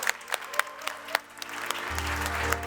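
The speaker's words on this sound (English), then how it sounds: "my panelists, Dino, Maurice, and Ralph, with a big round of applause." Panel event audience applauds as three panelists are welcomed onto a tech-conference stage, with scattered claps building into a steady, fairly loud round of applause with a low hum underneath.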